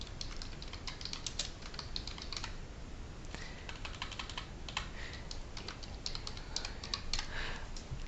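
Fast, continuous typing on a computer keyboard, close and fairly quiet, with rapid irregular key clicks in bursts over a faint background hiss and no voices.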